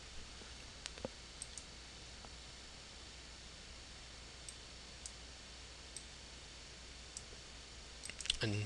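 Sharp, faint mouse clicks tick sporadically over a steady hiss during a Deadlock strategy game, a few isolated taps spaced seconds apart, ending in a louder cluster of clicks.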